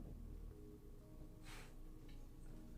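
A person sniffs poured cola drinks, giving one short, close nasal sniff against a low background hum, with fainter sniffs trailing after it.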